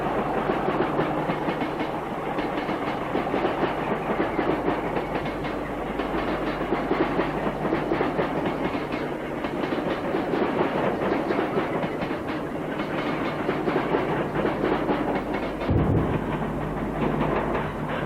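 A Southern Region electric multiple unit, one of the sets on the Waterloo, Southampton and Bournemouth line from 1967, runs at speed with a loud continuous rumble and rhythmic clickety-clack of wheels over rail joints.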